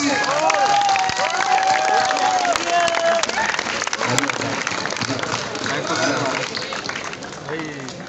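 A crowd at a JEE Main 2022 results celebration on a coaching campus in Kota claps and cheers loudly, with voices shouting over the sustained applause.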